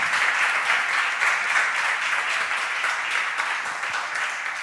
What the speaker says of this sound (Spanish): Muchísimas gracias y ese aplauso de nuevo para ella, para Ana Belén.